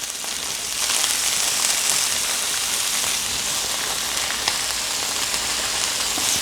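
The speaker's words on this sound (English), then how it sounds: "now we're going to add the onions" Onions frying in a skillet with sausage give a steady, close, bright sizzle that swells just after they go in and holds without a break, with no voices.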